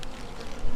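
Honeybees buzzing loudly and close during removal of a colony, a dense, continuous drone that swells slightly toward the end of the short moment.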